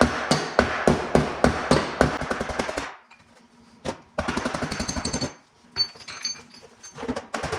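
Hammer tapping out a dent in car body metal, a steady series of sharp metallic strikes for about three seconds, a pause, then more rapid close taps with short gaps between bursts.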